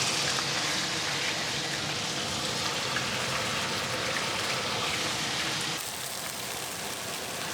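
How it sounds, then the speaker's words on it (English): Beef stir-frying in a wok under a running Fotile 7505 range hood gives a steady, loud broadband hiss of sizzling and fan roar that continues unbroken, with a slight shift near the end. "And then I stir fry the beef."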